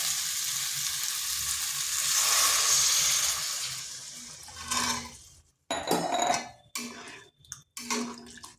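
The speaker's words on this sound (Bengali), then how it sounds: "এখন দিয়ে দিচ্ছি জল" Water poured into a pan of sautéed masoor lentil mixture with gathi kochu, a loud hissing sizzle that swells then breaks into bursts of bubbling and spatter separated by short gaps.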